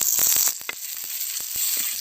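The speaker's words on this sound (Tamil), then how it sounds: "சின்ன வெங்காயத்தை இந்த அளவுக்கு நறுக்கி வச்சுருக்கேன், அதை சேர்த்துக்கலாம். ஒரு கொத்து கருவேப்பிலை சேர்த்துக்கலாம். நல்லா வதங்கிட்டுங்க." Shallots, curry leaves and tomato sizzle in hot oil for a village-style country chicken curry, a loud, close hiss that dips after a moment, with a few light stirring knocks.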